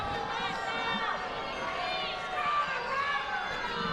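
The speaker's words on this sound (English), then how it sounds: "Crowd calling for stalling here." An arena crowd at a college wrestling match between Northern Iowa and Utah Valley calls out loudly in a sustained chorus of overlapping voices and shouts, mixed with a commentator talking over the noise.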